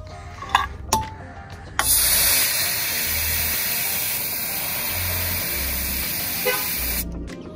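A Ford F150's horn sounds one sustained honk of about five seconds during a tire pressure sensor reset, preceded by a few short clicks and taps.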